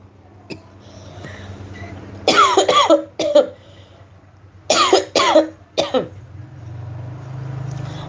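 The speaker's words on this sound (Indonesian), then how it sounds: "batuk nih, batuk" Two bursts of harsh, close coughing, each a quick cluster of three or four coughs, separated by a pause, with a low hum in the background.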